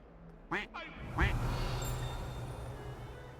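In the video game Hogwarts Legacy, a duck quacks a few times in quick succession, fairly loud and close, followed by a sustained ambient rumble from the game.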